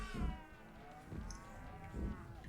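Cows low in the video game Rock of Ages 3, three drawn-out moos spaced about a second apart over a steady background of game ambience.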